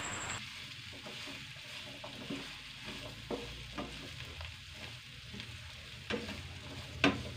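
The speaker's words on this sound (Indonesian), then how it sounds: "Aduk dan oseng buncisnya sampai" Green beans and meatballs are stir-fried in a pan, a soft continuous sizzle broken by scraping stirs and a few clacks of the utensil against the pan, ending in a sharp knock.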